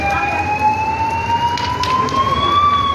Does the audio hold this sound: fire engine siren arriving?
yes